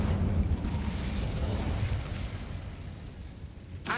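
Incendio fire spell cast in the Hogwarts Legacy video game, a sustained roaring, crackling burst of flame that stays loud throughout, ending in a sharp flare.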